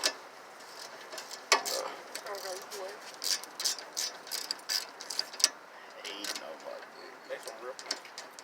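A ratchet loosens a rusty bolt on the brakes of a 1999 Lincoln Continental, giving rapid close clicking pawl bursts in uneven runs, with a voice speaking quietly underneath.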